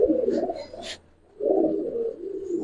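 Silver khaki pigeons coo in low, rolling bursts close by, with a brief sharper flutter near the middle and a short quiet gap before the soft cooing resumes steadily to the end.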